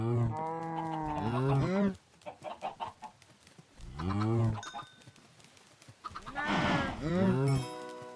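Cows in a video game moo in a series of long, loud, drawn-out lows, several calls in a row with short breaks between, and clucking fowl are heard alongside.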